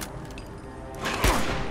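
Gunfire in the video game Fallout 4: a sharp, loud shot bursts out about two-thirds through over a steady bed of game ambience, with no talk.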